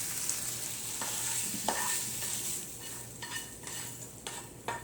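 Tilapia fish and onions frying in a pan give a steady soft sizzle, with a few scraping stirs and light clinks of a utensil scattered through it. No one speaks.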